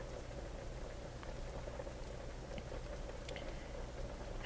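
Parmesan cheese sauce simmers gently on low heat, giving a steady, soft bubbling and popping that stays even and close throughout.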